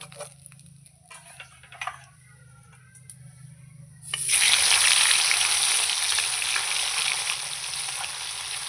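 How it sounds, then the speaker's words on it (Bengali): Quiet clinks and faint kitchen noises give way to a sudden loud burst of sizzling as fish hits hot oil to fry crisp, which keeps crackling steadily. "এই মাছ কিন্তু একটু কড়া করে ভাজতে হবে"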